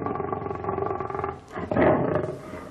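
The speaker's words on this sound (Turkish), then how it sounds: "Bunların biri arslan, öteki kaplan değil mi Ömer?" Roaring from a lion or tiger at a zoo, a loud, close, drawn-out rumbling roar that dips briefly and then swells again into a second, stronger roar.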